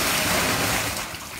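Wastewater gushes steadily down into a sewer through an anti-backflow flood valve, a loud continuous watery rush that thins slightly toward the end, with no talking.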